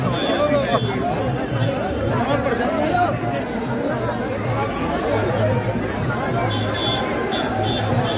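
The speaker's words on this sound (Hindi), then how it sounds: "देखो भीड़ देखो" Dense crowd chatter fills a street in Kota during the Bharat Jodo Yatra, a steady close hubbub of many overlapping voices with no pauses.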